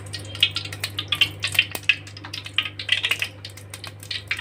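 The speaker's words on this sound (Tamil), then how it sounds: "இப்போ நம்ம எண்ணெய் விட்டுக்கலாம்" Cooking oil trickles into a pan while a Tamil coconut kara kuzhambu is being made, heard as a close run of soft drips and light splashes over a steady low hum, with no talking.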